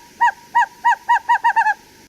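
A recorded Western Screech Owl tremolo call is played back for a callback survey. It gives eight loud, close hooting notes that speed up toward the end of the series and ring out clearly with no talk.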